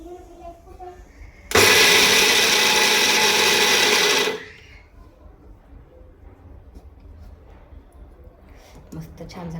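Peanuts whirred in an electric grinder to a medium-coarse texture: one loud, steady roaring burst of roughly three seconds that cuts off abruptly, followed by quiet room noise.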